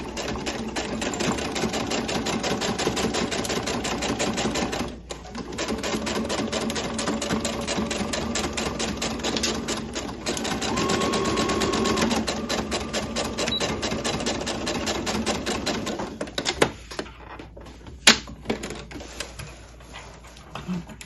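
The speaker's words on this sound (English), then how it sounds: "Let's just stitch those two ends closed." A domestic sewing machine stitching a seam, including a back stitch: a fast, even mechanical chatter running almost continuously, with short pauses near five and ten seconds and a few clicks as it stops near the end.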